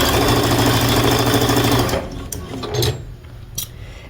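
Sewing machine stitching quilt block pieces together, a loud rapid mechanical run for about two seconds, then stopping with a brief restart and a few clicks.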